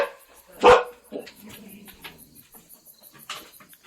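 A dog gives one sharp, close bark near the start, followed by softer scattered sounds and faint chirping crickets in the background outdoors by a porch.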